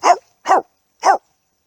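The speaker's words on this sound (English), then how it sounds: "it's the barking of the roe deer" Three sharp, hoarse barks of a roe deer in Bluebell Farm Wood, Liskeard, evenly spaced with brief silences between, close and loud.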